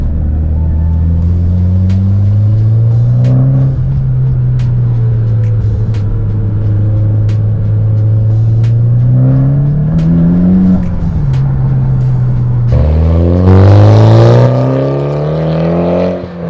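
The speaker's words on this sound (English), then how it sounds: "The car actually sounds really good." Mitsubishi Evo X fitted with an ETS exhaust revs loudly up close, the engine climbing and falling through several rises before a sharp final burst of throttle, with no talk over it.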